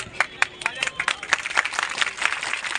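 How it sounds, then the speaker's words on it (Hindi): A crowd claps to welcome guests at the opening of a political campaign office, a lively mix of individual sharp claps merging into continuous applause at moderate distance. "तालियां बजनी चाहिए भाई"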